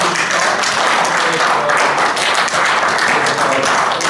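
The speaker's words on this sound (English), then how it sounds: "Let's give God a clap." A church congregation claps together after a sermon, a dense, steady wash of hand claps filling the whole stretch at close range and full volume, with a few voices mixed in.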